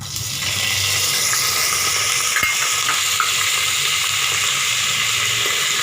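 Curry leaves and dried red chillies sizzle steadily in hot oil in a pan, a dense, continuous frying hiss with a faint stir or clink now and then, close up and alone.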